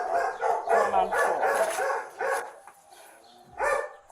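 Several dogs bark in quick bursts at a home during a police body-camera visit, clear and fairly close, then fall quiet before one last bark.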